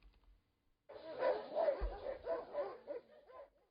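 Dogs at a pet boarding kennel barking and yipping in a rapid, close burst of repeated barks, with a few whimpers mixed in, after a brief quiet start.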